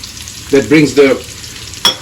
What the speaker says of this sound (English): as it's frying out, I'm going to add the onion, the sliced onion